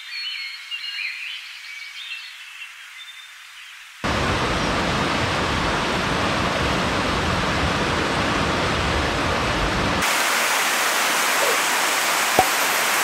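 A river stream flowing right in front of a campsite at Kerling, a steady broadband rush of water close by and loud, after a few quieter seconds with birds chirping, shifting partway to a brighter, hissier roar.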